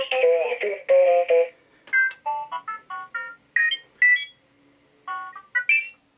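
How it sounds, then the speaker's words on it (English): A Star Wars Galaxy's Edge R-unit toy droid makes short bursts of electronic chirps and beeps at varied pitches, stuttering like chatter, with pauses between phrases. "they don't just sound like the same basic beeps"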